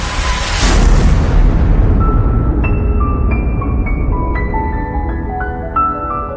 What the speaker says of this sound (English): They evaporate away at an increasing rate until they vanish in a gigantic explosion.